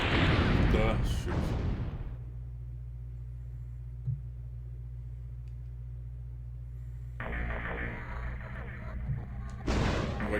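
Heavy cannon and gunfire from the shoot-'em-up game Einhander burst loudly at the start and again near the end, with a steady low engine drone and a faint pop in between.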